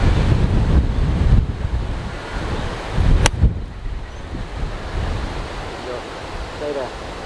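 Wind gusts roar across an open golf course in heavy, uneven blasts, buffeting close to the ear with one brief sharp knock midway.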